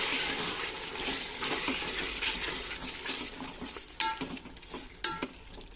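A spoon scrapes and stirs through sizzling mutton sautéing in a pot for biryani, with steady frying hiss and occasional metallic clinks, close up and without talk.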